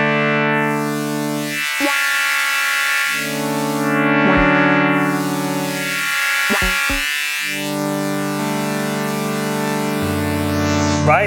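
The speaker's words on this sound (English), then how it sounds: "we can sweep from low pass to high pass via notch" Sequential synth held chords passing through a variable state filter that sweeps from low pass through notch to high pass, the tone repeatedly hollowing and brightening in slow waves, loud and continuous without speech.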